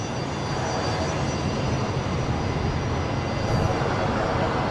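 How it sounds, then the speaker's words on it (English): Airbus A330 jet airliner engines at Brisbane Airport give a steady, loud broadband roar that holds evenly throughout, with no voices over it. "I had pretty good sound in my ears there from that A330, Matt."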